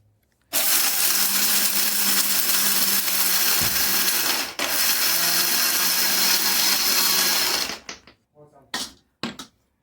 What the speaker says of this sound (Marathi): आणि पुन्हा एकदा मिक्सरमध्ये